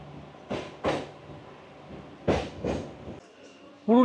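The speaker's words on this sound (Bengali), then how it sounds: "আনারা স্টেশন ঢুকে পড়লো আমাদের এই ট্রেনের প্রথম স্টপেজ" A Purulia–Howrah passenger train pulls into Anara station, with heavy clunks and jolts of the carriages at irregular intervals over a low rumble, heard from on board.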